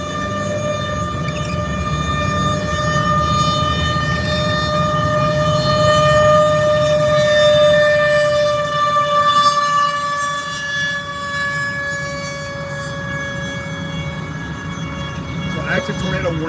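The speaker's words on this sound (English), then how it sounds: "Well, sirens are going off here." Tornado warning sirens wail across a North Texas area during an active storm, a steady, droning multi-tone blare that holds throughout with low wind rumble underneath, loud and continuous.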